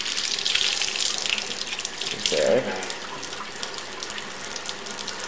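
Water runs steadily from a tap, with a brief louder splash partway through as hair is rinsed under it during a bleach-and-dye session; a person speaks briefly over it.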